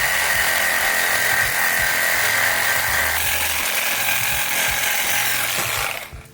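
A loud power tool cuts through bolt spacers during a brake upgrade on a 1967 Mustang, grinding steadily and continuously for about six seconds before abruptly winding down and stopping.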